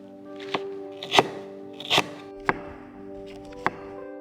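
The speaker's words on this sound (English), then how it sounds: "Now I'm going to cut up some of the ingredients that go into the spice paste or rempah for the satay ayam goreng." A knife chops herbs for a satay ayam goreng spice paste (rempah) on a board, giving about five sharp, irregularly spaced thunks close by over a faint steady hum.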